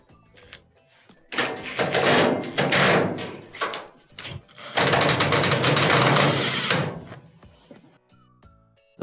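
Screws driven back into the metal panel of an LG dryer during a drum belt repair, heard as a run of loud mechanical whirring and rattling bursts with short pauses between, close by and with no talking.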